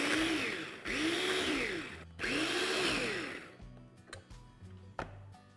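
Kidney beans are chopped coarsely in a food processor in three loud whirring bursts, each spinning up and winding down, followed by softer clatter and knocks.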